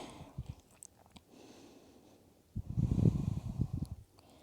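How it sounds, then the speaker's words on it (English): Breath during a yoga forward fold, faint soft inhales and exhales, with one louder, rougher exhale near the end, close and without talk. "Breathing in and breathing out."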